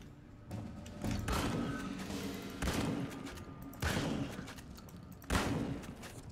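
Gunfire from a weapon in the video game Fallout: New Vegas, with the Frontier mod, sounds in a run of sharp repeated blasts and bursts, each followed by a rumbling tail, over a dense, noisy game background.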